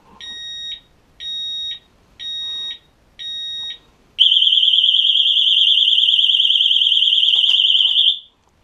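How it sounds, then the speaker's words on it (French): A Xena XX10N alarm mounted on a 2022 Honda CBR650R gives four evenly spaced warning beeps, then breaks into a loud, continuous warbling siren that lasts about four seconds before stopping. "donc moindre mouvement, donc il détecte, il prévient, 3 bips et il sonne"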